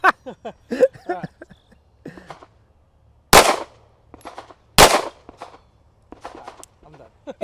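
Two sharp, loud gunshots ring out about a second and a half apart during shooting posture practice, separated by bursts of nearby talking.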